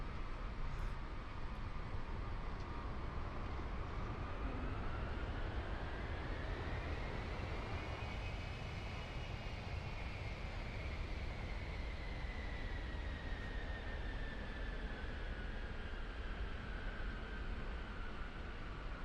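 Boeing C-17 Globemaster III transport jet taxiing on the ground, a steady roar with an engine whine that slowly rises and falls in pitch, constant and somewhat distant for nearly twenty seconds.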